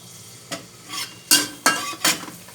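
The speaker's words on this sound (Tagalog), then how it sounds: "Ilagay natin ang ating garlic." Garlic sizzles in hot oil in a frying pan while a utensil stirs it, with about five sharp scraping strokes over the steady frying hiss.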